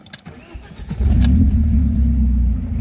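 A BMW E30 engine rumbles up loudly and steadily as the car pulls away, a deep close drone following a few quiet knocks.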